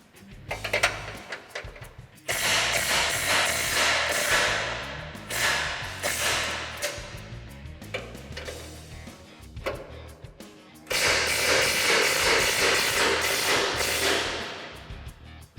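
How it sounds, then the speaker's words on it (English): Repeated metallic ratcheting, clanks and sharp knocks from a 27mm socket loosening the lower control arm nuts on a 2014-2020 Ford F-150, coming in loud bursts separated by brief pauses, with no talking. "Now we're going to just slightly loosen our two lower control arm nuts using our"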